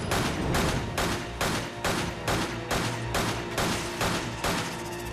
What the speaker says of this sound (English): I hear the gunfire.